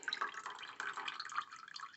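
Running tap water splashes and trickles steadily at close range while carburettor jets are rinsed under it, a faint, continuous wet patter with small drips and no voices.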